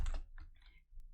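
Keys tapped on a computer keyboard while a question is typed into a Google Slides text box, a few quiet clicks in quick succession.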